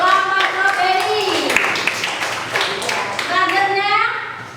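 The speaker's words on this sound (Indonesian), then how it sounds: "Tepuk tangan untuk kelompok strawberry." Children in a classroom clap for a group in quick bursts of hand claps, while childish voices chatter and call out over the clapping.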